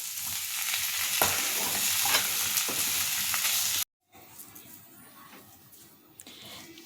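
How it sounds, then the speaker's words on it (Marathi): Sugar is stirred into potato bhaji sizzling in a pan. Scraping spoon strokes sound over a loud fry, then after a brief cut the sizzle continues more softly with occasional stirring. "हे छान आता आपल्याला मिक्स करून घ्यायचं आहे।"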